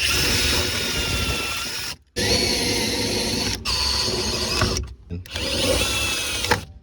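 A power drill whines loudly and steadily at close range, cutting out briefly a few times before grinding on through a metal rivet during a speaker install in a VW Mk8.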